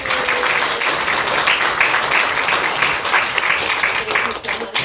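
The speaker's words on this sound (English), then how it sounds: "But give them all a big round of applause." Audience applause at a book launch for a literary review, steady, dense clapping that stays loud and close for several seconds before tapering off at the end.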